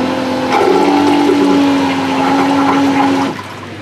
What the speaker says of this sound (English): Now we're going to demonstrate the use of the macerator toilet. It's a flush-air toilet system.